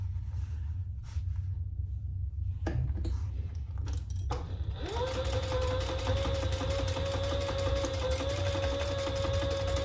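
A sewing machine top stitches a seam on a crossbody bag, starting after a few handling clicks and rattles, then running in a steady, fast, close whirring hum to the end.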